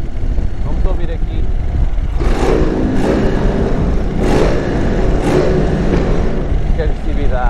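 A 2023 Indian Sport Chief motorcycle engine is revved in a few sharp bursts, each rising briefly then settling back to a throbbing idle, close by, with someone talking over it.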